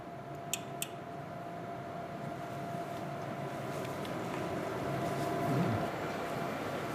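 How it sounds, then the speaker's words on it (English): A vacuum pump draws gas out of a scanning electron microscope chamber, a steady mechanical hum and rumble that slowly builds in strength, with two faint clicks near the start. "And now I will pump out the gas."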